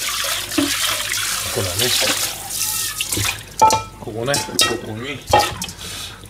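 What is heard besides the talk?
chicken ham broth poured into a pot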